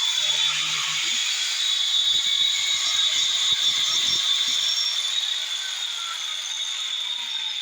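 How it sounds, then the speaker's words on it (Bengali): A grinding machine powered through a 2000 watt solar inverter runs steadily with a high whining, hissing drone and a light rattling underneath, close by and continuous without talk. "এখন আমি এখান থেকে গ্রাইন্ডিং মেশিনটা চালু করি"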